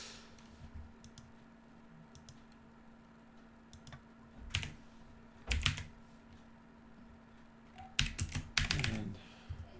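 A password is typed on a computer keyboard in short bursts of close, crisp key clicks, separated by quiet pauses, with a faint steady hum underneath and no talking.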